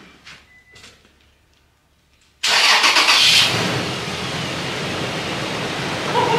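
Repaired truck engine cranking and catching: quiet clicks and faint movement, then a sudden loud start that settles into a steady, fairly close idle rumble.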